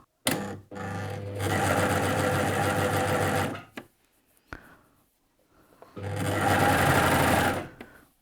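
BabyLock Ovation serger stitches fabric at medium speed in two long steady runs of rapid mechanical whirring, separated by a quiet pause with small handling clicks.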